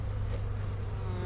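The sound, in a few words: honey bees buzzing at open hive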